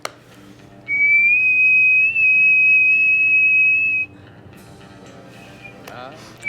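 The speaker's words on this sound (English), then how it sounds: "Just whistle at him" A person whistles to call a dog: one long, loud, steady high whistle held for about three seconds, with quieter voices and room noise before and after.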